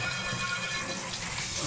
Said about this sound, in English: then I will turn on the spray head